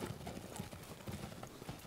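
Young five-year-old horses step along with a steady, soft clip-clop of hooves, faint and somewhat distant against a noisy background.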